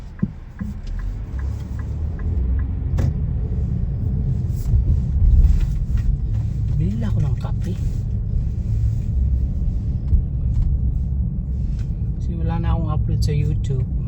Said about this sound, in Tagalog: Traffic na yan